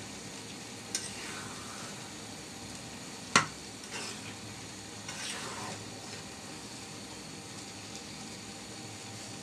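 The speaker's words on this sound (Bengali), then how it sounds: "ভালো করে নাড়াচাড়া করে দিলাম, মশলাটা যেন চারপাশে মিশে যায়।" Spiced shrimp khichuri being stirred in a pot, with a soft steady simmer and sizzle, one sharp clink of the spoon against the pot, and a few faint scraping sweeps, quiet and close with no voices.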